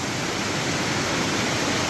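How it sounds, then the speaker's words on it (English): An underground waterfall inside a West Virginia cave roars as a dense, steady rush of falling water, loud and unbroken for the whole moment with no talk. "Wow, even more underground waterfalls."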